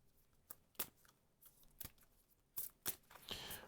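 Cards from the Slay the Spire board game are shuffled by hand, giving faint, quiet riffles and snaps in irregular bursts, ending in a longer brushing riffle, with no talk over them.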